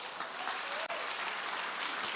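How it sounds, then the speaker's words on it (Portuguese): Congregation applauding in a church service, a steady broadband patter of many hands that fills the short moment without any talk over it. "Uma salva de palmas para esses irmãos."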